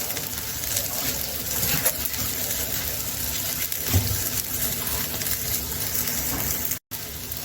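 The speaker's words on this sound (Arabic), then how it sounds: "وبعدين هنزل بالملح والميه" Water poured into a pot of sautéed rice, vermicelli and salt, heard as a steady close gushing and splashing that runs nearly the whole time, with a brief sizzle and a short cut near the end.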